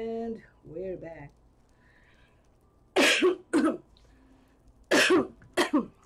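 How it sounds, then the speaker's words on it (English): A person coughs during a Minecraft stream: two short coughs around the three-second mark and two more near five seconds, close and clear, with brief vocal sounds before them. "Sorry, I still have cough."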